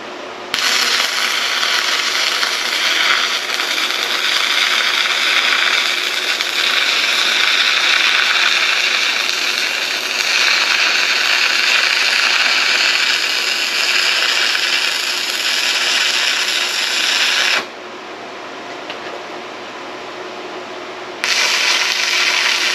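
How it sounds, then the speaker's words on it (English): A Sefaspe 205A MIG welder running 110/220V lays a weld on a piece of metal for a pellet target, a loud steady crackling buzz for about seventeen seconds, a short pause, then the arc starts again. "So we're going to go ahead and weld this piece of metal in there."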